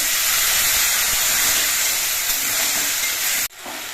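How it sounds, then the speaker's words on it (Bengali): Water hitting turmeric powder in a hot pan sets off a loud, steady hiss of sizzling steam that holds for several seconds, then drops sharply near the end and settles into a quieter frying sizzle. "হলুদের গুঁড়োটা যাতে পুড়ে না যায় তার জন্য অল্প একটু জল দিচ্ছি"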